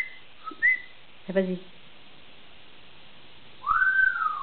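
An African grey parrot gives a few short, thin whistles early on, then a longer, clearer rising-and-falling whistle near the end, heard close with a brief spoken remark and quiet pauses between.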